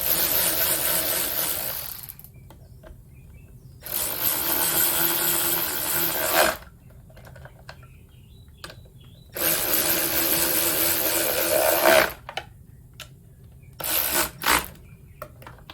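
Bolts are tightened on the mounts of a Suzuki 2.5 hp outboard motor, with loud, close ratcheting and rasping tool strokes in several long bursts separated by quiet gaps and a few sharp clicks.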